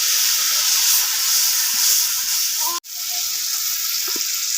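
Chicken biryani masala with turmeric and chilli powder sizzles loudly in a pan as a little water is added, a dense steady hiss and crackle with one brief dropout.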